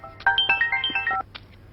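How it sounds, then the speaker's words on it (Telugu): A mobile phone's melodic ringtone for an incoming call plays a quick run of bright electronic notes for about a second, clear and close in a quiet room in a Telugu mystery-thriller film scene. "ఒక్క నిమిషం, సిఏ సార్ ఫోన్ చేస్తున్నారు"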